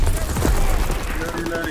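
Heavy sustained gunfire in Call of Duty: World War II, a continuous dense barrage of shots booming close under battlefield noise and shouting.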